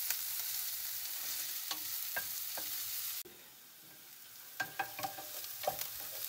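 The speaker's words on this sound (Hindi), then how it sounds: "need to throw in the onions and we are just going to lightly saute them" Onions sauté in a pan with a close steady sizzle, broken by a series of sharp spatula stirring scrapes and taps, with no talking.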